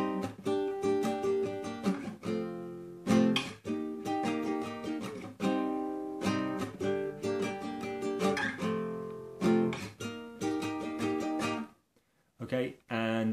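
Guitar strummed in a rhythmic pattern for a song, with bursts of chords broken by short gaps and a near-silent pause near the end, followed by a few final strokes, fairly quiet and close.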